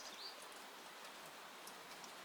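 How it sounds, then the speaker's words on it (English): Steady rain patters on a porch roof, a soft continuous hiss that holds even and faint throughout, with a brief bird chirp near the start. "The sound of the rain on the roof as we sit here on the porch."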